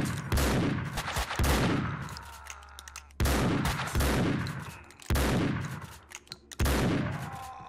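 Bursts of gunfire in the video game Max Payne 2, four loud sharp shot clusters with echoing decays, spaced a second or two apart and otherwise alone.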